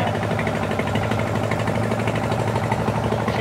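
Trawler boat engine on the Padma River heard from the operating spot at the stern, a steady close droning rumble with low harmonic hum and constant vibration, running without pause.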